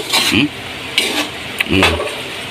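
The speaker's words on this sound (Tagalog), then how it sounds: "Ayun, tinaktak uli yung sandok mga Apple Trip." A metal ladle taps against a pan while pork is sautéed, giving a few sharp clanks spaced apart over a steady sizzle, with a voice speaking close by.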